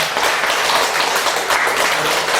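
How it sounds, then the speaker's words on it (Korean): A church congregation claps steadily and fairly loudly throughout, a dense even patter of many hands with no voices standing out. "박수 해주세요"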